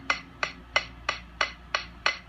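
Seven crisp, evenly spaced snare hits tap out a steady pulse, each a short sharp crack with no press roll between them, fairly quiet.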